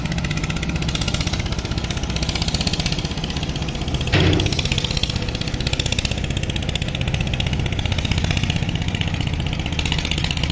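Engine of a small, narrow passenger launch racing another launch on a river, a steady droning hum with knocking texture that runs continuously and loud, with a brief sharper noise near the middle.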